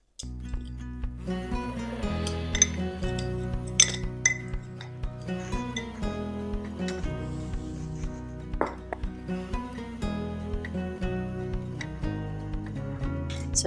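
Homemade herb seasoning mix being stirred, with repeated light clinks and taps of a utensil against a glass container in an irregular rhythm, close and clear, over a steady low background hum.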